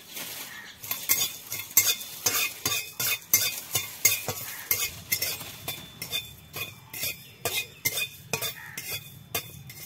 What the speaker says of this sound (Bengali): দিয়ে দিচ্ছি ধনে, দিয়ে দিচ্ছি জিরা, জমে সামান্য সামান্য করে, আর এক শুকনো লঙ্কা দিয়ে দিলাম।